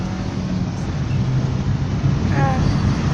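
A steady low engine drone and road rumble fill the cabin of a moving Mercedes car, constant and close, with faint voices underneath.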